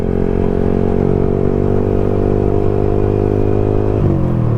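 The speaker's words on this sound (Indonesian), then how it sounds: "pakai motor serep super moto guys" A spare supermoto motorcycle rides along a road with a loud, steady engine drone and a strong, even tone that shifts slightly near the end as the revs change.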